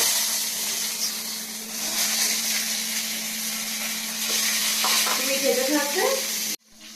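Food fries in a pan with ghee, giving a steady, close sizzle that carries throughout, with faint stirring scrapes toward the end before it cuts off abruptly.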